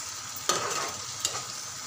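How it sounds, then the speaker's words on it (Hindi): Tomatoes cooking for a daliya khichdi, stirred in a pan with a steady soft sizzle and two sharp scrapes of the spoon, close and with no voices. "टमाटर को हम अच्छे से पका लेंगे हम"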